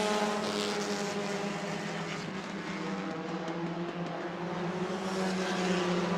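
Race cars on a weekly-racing oval at New Smyrna roar as they accelerate, a dense sustained engine drone with layered harmonic tones holding steady throughout, heard at moderate distance.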